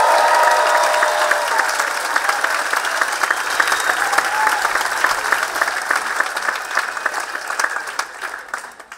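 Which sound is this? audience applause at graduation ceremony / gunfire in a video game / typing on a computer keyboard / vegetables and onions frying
audience applause at graduation ceremony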